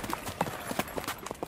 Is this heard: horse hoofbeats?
yes